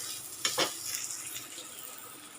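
Onion sautés in a pan until reddish brown, a faint, even sizzle with a couple of quick scraping stirs near the start.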